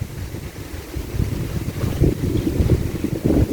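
Wind gusts sweep across open water at a county park campground in Wood County, Wisconsin, a steady low rumble of buffeting wind noise that swells and surges throughout, with no voices.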